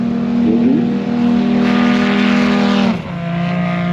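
A small propeller airplane engine drones steadily and loud, then the throttle eases and the pitch drops to a lower hum near the end.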